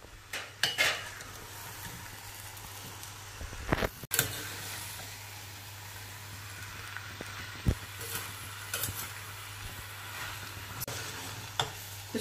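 Vegetables and cauliflower are stirred together in a pan for pav bhaji, giving steady scraping and sizzling with a few sharp utensil clinks against the metal.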